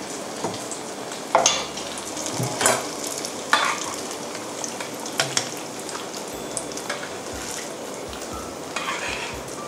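Khanom kong, a traditional Thai dessert, frying in hot oil over fairly high heat, giving a steady crackling sizzle with intermittent stirring scrapes and light clinks of a utensil against the pan, with no talking.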